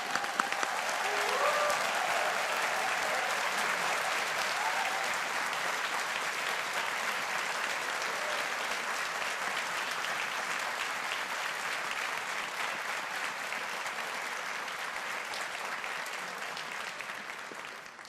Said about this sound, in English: Let's give all our graduates a big round of applause.